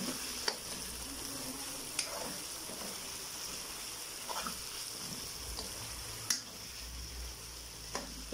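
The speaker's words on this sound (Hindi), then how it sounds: "इसको हम मज़ीद 5 मिनट के लिए और फ्राई करेंगे ताकि अच्छी तरह प्याज ब्राउन हो जाए" Onions and chicken fry in a pan for a biryani, giving a faint steady sizzle with occasional soft clinks of a utensil stirring.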